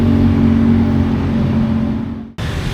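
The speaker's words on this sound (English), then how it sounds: "it's always accompanied by the sound of traffic and inevitable beeping horns" Steady traffic noise from a street in Hanoi, with engines humming close by, then a brief drop and a cut before the noise resumes.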